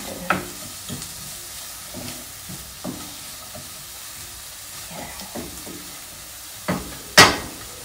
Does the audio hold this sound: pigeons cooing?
no